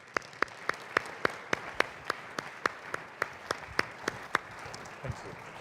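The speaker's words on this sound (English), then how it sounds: "Let's give him a round of applause." Sparse, rhythmic applause rises from a small audience welcoming U.S. Senator Mark Begich to the stage at the Alaska 2014 State of Reform keynote, individual claps distinct and evenly spaced, fairly quiet and steady throughout.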